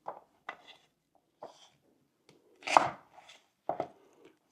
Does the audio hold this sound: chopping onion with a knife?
yes